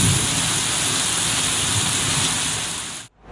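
Heavy torrential rain pours steadily after seven days of downpour in Chunian, a dense, loud, unbroken roar of water that cuts off abruptly near the end.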